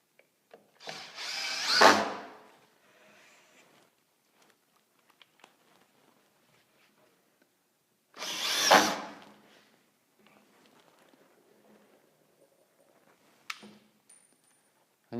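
A power drill drives screws through drywall corner bead in two loud, short bursts several seconds apart, with quiet handling clicks and taps in between.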